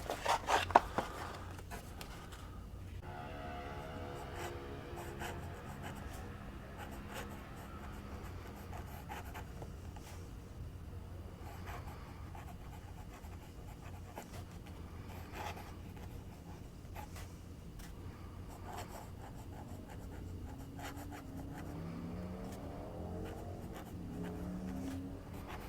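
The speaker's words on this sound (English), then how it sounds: "With this, it writes fairly well." A fountain pen scratches across notebook paper in faint, intermittent strokes and scribbles, quiet and close with light rustling.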